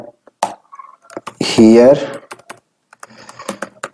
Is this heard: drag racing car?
no